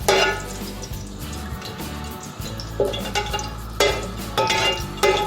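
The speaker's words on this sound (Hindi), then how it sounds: "क्योंकि सबसे पहले हम इसके अंदर तेज़पात के पत्ते डालेंगे" Bay leaves dropped into hot cooking oil for a beef paya curry, with steady frying and stirring noise, occasional clinks of a utensil against the pot, and a few louder bursts of sizzle, no talking.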